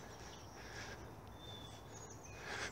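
A European robin singing in winter woods in a Plymouth park, thin high warbling phrases heard at a distance over a low background hum.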